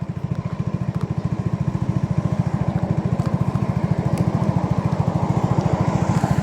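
A Sym Naga 155cc scooter engine running steadily at idle, close and loud, with an even rapid low putter that holds constant throughout and has no talking over it.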